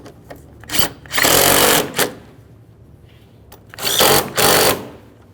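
Power tool snugging up the plastic intake mounting bolts on a 2012-2018 Nissan Altima 2.4L L4, in short whirring bursts: a quick spin, a longer run, then two more bursts after a pause, close and fairly loud.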